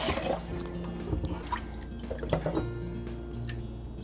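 Rice is rinsed in water, with quiet sloshing, drips and trickles of liquid close by, soft and continuous, with no talk.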